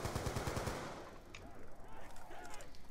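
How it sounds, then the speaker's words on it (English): Rapid bursts of ray gun fire in the Buried map of a Call of Duty Zombies-style video game, a quick rhythmic volley of sharp shots up front that gives way to quieter game sounds and a faint voice. "I shoot her with my ray gun."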